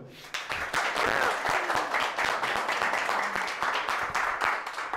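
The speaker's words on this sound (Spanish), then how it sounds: "Un aplauso." A room full of attendees claps at a Spanish-language tech talk on sysadmin, DevOps and SRE work, with brisk, close applause and crisp individual hand claps standing out, fairly loud and steady throughout.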